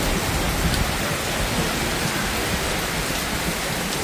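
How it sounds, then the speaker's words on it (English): Rain falling steadily in Budapest outside a bar, a dense, even hiss of drops on surfaces, loud and close, with no break for the whole stretch. "Rain is coming down."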